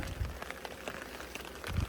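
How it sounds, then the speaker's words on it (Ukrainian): Rain falling steadily outdoors at an apiary during the handling of package bees, a soft continuous patter with a couple of low thumps, fairly close and with no voices. "Дощ падає."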